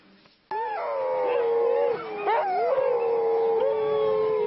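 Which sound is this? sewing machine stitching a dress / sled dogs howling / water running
sled dogs howling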